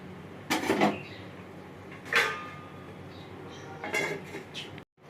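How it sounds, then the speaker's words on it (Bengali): A lid is handled on a cooking pot of potatoes and fish, with three separate metallic clanks and scrapes spaced across a quiet kitchen background. "এবার আমি ঢাকাটা খুলবো"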